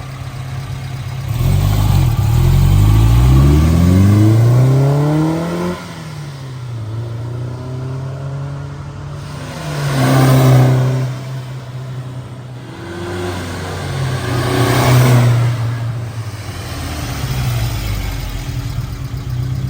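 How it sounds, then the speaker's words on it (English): A 1965 Alfa Romeo Sprint Speciale 1600 with a five-speed gearbox roars past several times, its engine note rising and falling with loud, close passes separated by quieter stretches, with no voices. "hope you enjoyed those flybys. It's a great looking little Alfa."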